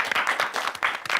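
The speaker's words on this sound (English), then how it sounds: "Quite a thin clap still." Thin, sparse clapping from a small studio audience at a TV quiz show, a handful of hands patting in an uneven rhythm for about a second.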